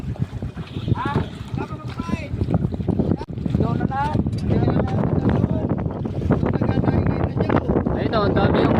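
A fishing boat's engine runs at sea with a loud, steady drone that never lets up, mixed with wind buffeting the microphone while people talk over it.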